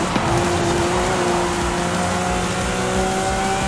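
A Lamborghini Aventador SVJ in Forza Horizon 5 roars at high revs, its loud sustained engine tone shifting pitch slightly while tires hiss and squeal underneath, with no voices.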